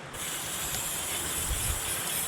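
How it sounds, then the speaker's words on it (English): A continuous aerosol hiss of chain oil sprayed from a can, steady for a couple of seconds, close and fairly loud, with no talking. "let's spray some chain oil in here"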